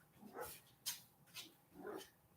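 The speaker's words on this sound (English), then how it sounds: "Y'all hear the puppies barking?" Puppies bark and yip faintly in the distance, giving several short, scattered bursts with quiet gaps between them.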